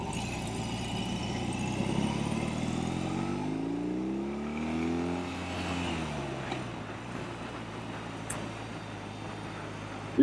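A 2021 BMW R18 cruiser motorcycle rides along with a steady, continuous engine drone whose pitch rises and then falls midway, staying close and fairly loud throughout with no talking.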